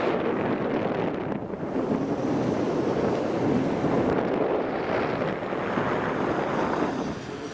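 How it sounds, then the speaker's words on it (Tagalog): Strong wind buffets the microphone while parasailing at Boracay, a continuous roar that rises and falls in gusts, with no one speaking. "Rinig na rinig yung hangin dito sa video niya."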